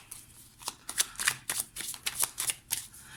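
Tarot and oracle cards are shuffled in quick rhythmic bursts, about ten crisp riffles close to the microphone, with no voice over them.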